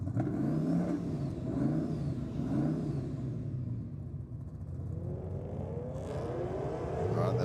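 A Mustang drag car races down the strip at Sydney Dragway, its engine roaring loudly and steadily as it accelerates, then rising in pitch toward the end, with crowd and track noise around it.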